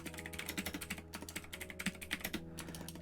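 Fingers typing on a computer keyboard during a coding lesson, a quick irregular run of close, crisp key clicks with brief pauses, no talking over it.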